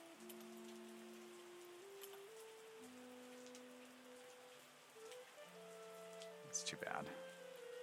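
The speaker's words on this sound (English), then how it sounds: "Ah, here comes the rain, of course." Rain falls steadily in the wine-making tycoon simulator game Terroir, a soft hiss under sustained musical tones, with a short spoken remark and a brief louder sweep near the end.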